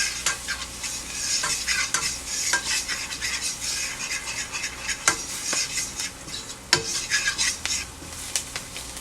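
Flour is stirred into a hot, sizzling pan with a spoon that scrapes and clinks against the metal, while frying crackles underneath and no one speaks.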